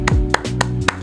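Four sharp, close hand claps spaced roughly evenly over a second, each crisp and loud against a quiet room with a low hum, from a football match reaction show.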